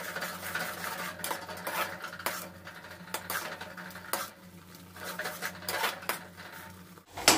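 A spoon stirs and scrapes turmeric and coriander powder as they roast in oil in a metal pan, making repeated metallic clinks and scraping in an irregular rhythm, close up and without talk.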